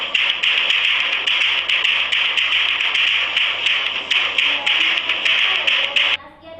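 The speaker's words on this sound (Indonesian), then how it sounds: "drummer banging their drums. Suara drummer nih yang mukul-mukul nih" A drummer bangs on drums in a rapid, steady run of sharp taps and thuds lasting about six seconds. The hits are loud and close over a bright hiss, then stop abruptly.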